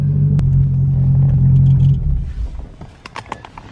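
A car engine rumbles low and steady while the car is moved, then the rumble fades into scattered knocks and clicks near the end, with no talk.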